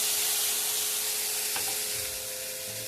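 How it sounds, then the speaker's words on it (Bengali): Batter for pithe sizzles steadily in a lightly oiled pan, a constant close, hissing fry with a faint tap partway through and no voices. "এই যে বেগুনের বোঁটা করে একটু তেল বুলিয়ে দিলাম, দিয়ে এই ব্যাটারটা"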